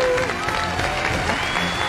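Studio audience applauding at a televised Chinese year-end awards gala as two women are invited onto the stage, a steady wash of clapping across the whole moment with some voices mixed in.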